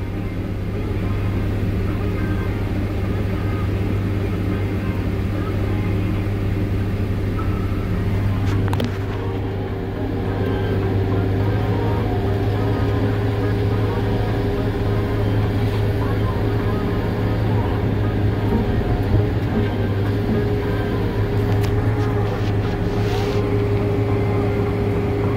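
A vehicle on tires poorly suited to the terrain grinds up steep ground over a hill road, a loud, continuous low engine drone that holds steady throughout, with someone talking over it.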